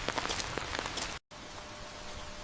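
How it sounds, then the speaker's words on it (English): Light misting rain patters softly and steadily on an outdoor road, faint and close, broken by a brief moment of silence midway before the soft hiss resumes. "A misting rain arrives as the road forks."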